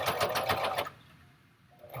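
A home sewing machine stitches fabric face masks in a quick, loud rattling burst for under a second, then stops and leaves near silence.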